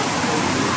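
Water rushing over rocks at the small Humbare waterfall, a dense, steady roar that stays close and loud throughout without a break.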